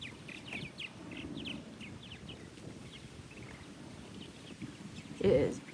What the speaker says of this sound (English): I think those are like some type of sparrows.